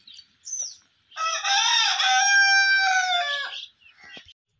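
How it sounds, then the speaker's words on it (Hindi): A rooster crows loudly and close by, one long drawn-out call preceded by a brief squawk and followed by a faint trailing cluck, in a Punjab village setting. "ये मुल्तान से आया है एक मुर्गा और एक मुर्गी"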